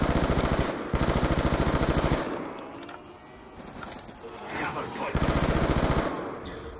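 An RPD machine gun fires in a zombies shooter at a bus depot. Two dense, rapid bursts of gunfire sound up close, split by a quieter stretch of rustling game noise, then a third burst.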